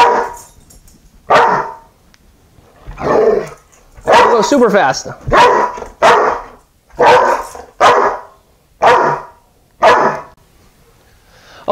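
A dog barks repeatedly in quick succession, about ten loud, close barks that come faster and faster, with a person speaking briefly between them.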